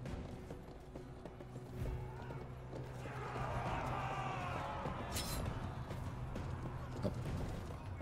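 A horse in a video game gallops with rhythmic clip-clop hoofbeats at moderate distance, mixed with clattering game effects and a faint background hum.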